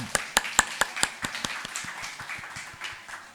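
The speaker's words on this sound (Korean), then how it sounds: "우리와 우리 세대에, 우리 다음 세대에 복을 주시고 영광 받으실 주님께 박수로 영광 올려드립니다." A church congregation claps together in a steady, fairly quick rhythm of sharp hand claps, starting crisp and loud and thinning out slightly as it goes on, with no talking.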